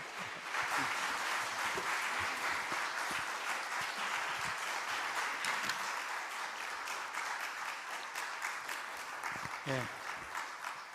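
A church congregation at a Friday late-night prayer meeting claps to welcome the pastor to the pulpit, sustained loud applause throughout with a voice briefly speaking over it near the end.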